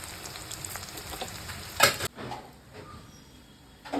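Deshi pond prawns fry in a pan with a steady, close sizzle and stirring; a brief sharp clatter comes about halfway through, then the frying continues more quietly.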